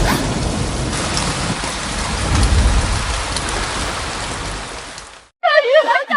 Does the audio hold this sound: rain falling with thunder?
yes